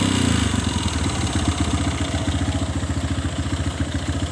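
A Kawasaki motorcycle engine, close and loud, revs and then drops back as the throttle is released, settling into a fast, even pulsing beat.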